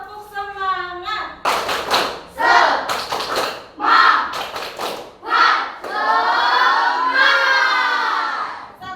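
A classroom of standing students performs a rhythmic clapping chant, bursts of sharp group claps alternating with loud chanted voices and a teacher's lead, ending in a long sustained collective shout.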